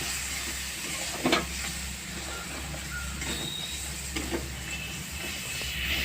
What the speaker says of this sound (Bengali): আর দেবো একটু লঙ্কার গুঁড়ো। ভালো করে কষিয়ে নেব।